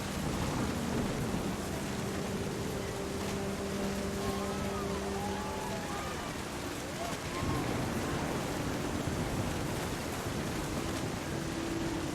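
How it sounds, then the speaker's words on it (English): Thunder and steady rain in the video game What Remains of Edith Finch, a continuous dense downpour with low rumbling throughout, plus faint tonal game music underneath. "The thunder sounded much too close and full of angry power."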